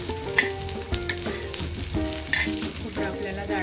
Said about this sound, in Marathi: तेल टाकून घेतलेलं आहे। खोबरं पण छान असं तांबूस रंगावर भाजून घ्यायचं।